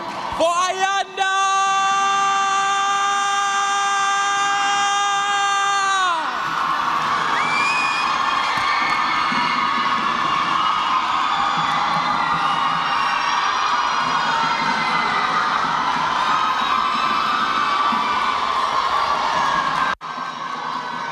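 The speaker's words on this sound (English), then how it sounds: "round of applause for Ayanda" A large audience cheers, whoops and shouts loudly for Ayanda at a live event. After a sustained high-pitched whoop at the start, a dense crowd roar carries on for about twenty seconds.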